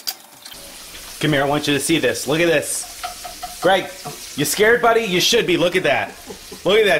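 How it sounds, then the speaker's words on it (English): Prosciutto sizzling in melted butter in a pan gives a continuous frying hiss under excited talk from a man at the stove. "That is the sound of prosciutto cooking in butter."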